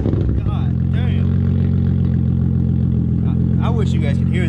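Nissan G35 fitted with a Tomei exhaust revving loudly up close, a steady deep engine drone with rising rev sweeps, while people talk over it.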